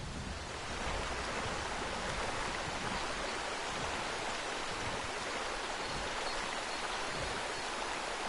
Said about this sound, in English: If the water wasn't so ridiculously loud, this would be an awesome base